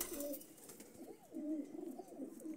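Several teddy pigeons of the Kalla breed in a breeder's loft coo in low, rolling bursts, three or four repeated phrases close by with no voices.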